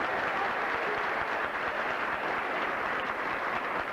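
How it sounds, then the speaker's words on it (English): Audience applause fills a hall at a 1997 Coolidge graduation ceremony, a steady wash of many hands clapping at once, held at an even level throughout. "Give her a round of applause"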